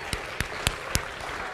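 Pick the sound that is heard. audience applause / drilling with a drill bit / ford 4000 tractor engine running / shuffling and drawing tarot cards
audience applause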